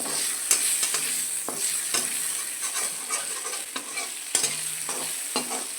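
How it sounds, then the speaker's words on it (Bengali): Small chopped prawns frying in a pan with salt and turmeric, a steady close sizzle broken by repeated scraping stirs of a spatula, with no talking. "দেখো ভাজা হয়ে গেছে চিংড়ি মাছগুলো নুন হলুদ দিয়ে আমি ভাজলাম"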